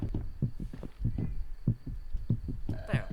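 In the horror video game The Mimic, a heavy thumping heartbeat pulses in paired beats at a steady rhythm, low and close, with a player's voice briefly heard near the end.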